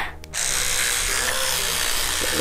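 A child's teeth are brushed with an electric toothbrush, a steady close buzzing hum that starts abruptly and continues without pause.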